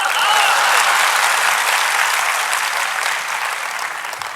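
An audience claps on cue during a rehearsal at an event with CM Rekha Gupta, a loud, dense burst of applause that holds steady and then tapers slightly toward the end.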